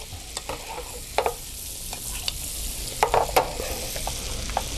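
Schnitzel frying in butter in a pan, a steady close sizzle with scattered sharp crackles and pops as the meat is moved around, no talking.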